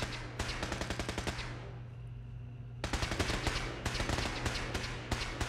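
Automatic turrets firing in the video game Fallout 4 deliver rapid, rhythmic bursts of gunfire, then a short lull before the bursts resume loud and close.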